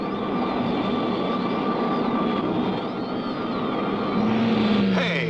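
A cartoon spaceship engine hums in a steady, loud whir with wavering high tones, ending in a rising whine as another ship looms close overhead.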